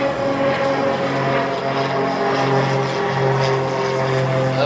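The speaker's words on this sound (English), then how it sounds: "Mr. Oxman, was the Cessna just too heavy for the other runways?" A Cessna propeller airplane runs on the runway at Honolulu airport, its engine drone steady and fairly close with a tonal hum throughout and no talk.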